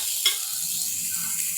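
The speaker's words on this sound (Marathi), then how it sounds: "सॉफ्ट होईपर्यंत आपण याला परतवून घेणार आहोत।" Chopped onion, ginger and green chili sauté in a hot pan as a butter chicken masala base, giving a steady close sizzle with a brief stirring scrape near the start and no talking.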